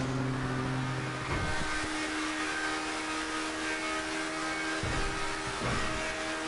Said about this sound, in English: Hear that high engine rev singing out